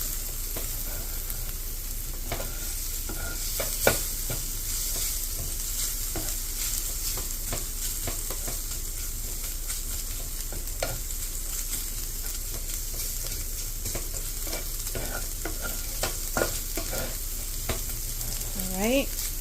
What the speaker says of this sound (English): so let's mix everything together